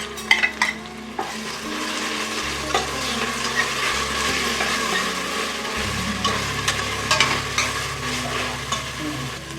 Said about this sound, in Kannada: ಈರುಳ್ಳಿ ಕಲರ್ ಲೈಟಾಗಿ ಚೇಂಜ್ ಆಗ್ತಾ ಇದೆ, ಚೆನ್ನಾಗಿ ಫ್ರೈ ಆಗ್ತಾ ಇದೆ